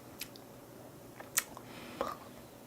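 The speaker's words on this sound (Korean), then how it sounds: "씹는 소리가 이렇게 탁탁 나듯이 많이 볶아가지고" A few crisp, sharp crunches of hard, dark-roasted coffee beans being chewed, spaced irregularly and quiet but close, with no talking.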